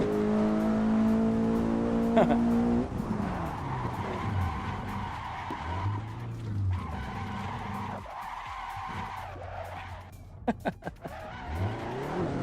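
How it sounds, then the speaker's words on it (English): A Honda Civic Type R in a driving simulator game skids with long, loud tire squeals over a steady engine drone, the pitch shifting as it slides, then a few sharp knocks near the end. "We're driving the Honda Civic Type R."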